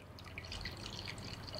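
Water runs into a container to dilute biogas digester fertilizer, a steady close trickling and splashing that continues without pause and with no talk over it.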